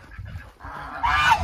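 Geese on a hobby farm give a short honking call, faint at first and then louder and close at the end, with no talk over it.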